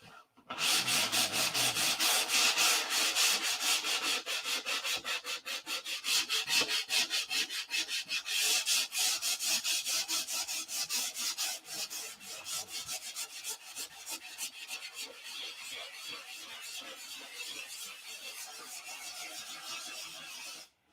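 A model P-47 is hand sanded without a block, giving a close, continuous scratchy rubbing in quick back-and-forth strokes that run steadily for the whole stretch.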